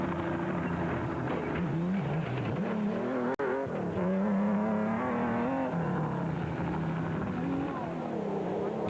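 Nissan race vehicles in the Mmabatho 500 desert race roar past with a steady, loud engine drone, the pitch rising and falling, a sharp click partway through, and commentary running over the top.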